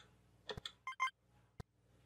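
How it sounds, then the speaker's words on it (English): A mobile phone gives a short burst of electronic chirps and tones, then a single brief blip about a second later, faint and alone with no voices during a shoot-'em-up game session. "I think that was my phone talking to me or something."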